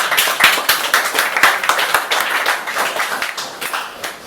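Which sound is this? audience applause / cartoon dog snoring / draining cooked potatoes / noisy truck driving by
audience applause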